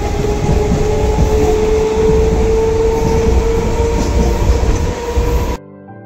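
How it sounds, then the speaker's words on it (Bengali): Inside a local passenger train running from Krishnanagar toward Kasimbazar, a loud, steady rumble and rattle carries on unbroken for about five seconds, then cuts off abruptly. "ট্রেন এখন কাশিমবাজার স্টেশন ঢুকছে"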